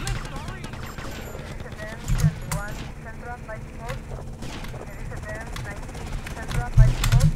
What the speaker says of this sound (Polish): Co do mnie strzela jeszcze?